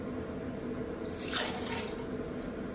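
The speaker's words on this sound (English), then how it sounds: "When you're pouring... especially out of that, don't you have to go up" Orange Crush cocktail ingredients are poured into a glass in a cheesesteak shop, making a soft, steady liquid trickle with a brief splashy swell in the middle. The sound is faint and there is no talk.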